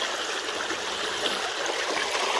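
Water rushes steadily through a gold sluice set in a creek, a close, continuous broadband wash with no breaks and no voices over it.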